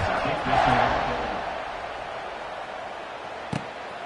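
Football stadium crowd roaring with broad, sustained cheering that swells early and then settles into a steady distant wash, with a brief sharp thud near the end.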